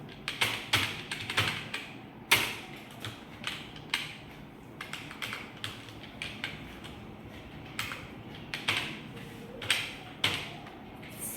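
Typing on a computer keyboard while writing C++ code, irregular bursts of close, crisp key clicks with short pauses between words, alone without speech.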